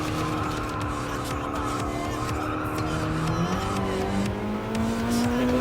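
Car tires squeal through a sliding turn in the Gran Turismo Sport racing game, a sustained screech that rises in pitch over a steady engine drone, with no voices.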